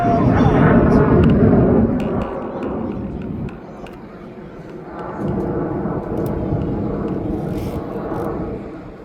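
Red Arrows RAF jets performing an airshow display over London, a broad roaring jet rumble that swells, eases and builds again, with commentary talk over it.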